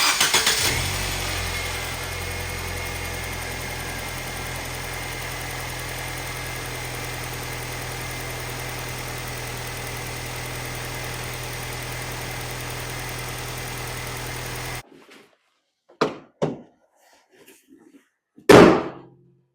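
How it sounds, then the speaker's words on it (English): A car engine that keeps burning oil runs at a steady idle for about fifteen seconds, then cuts off, followed by a few scattered clicks and knocks. "start the engine so you guys can hear what it sounds like."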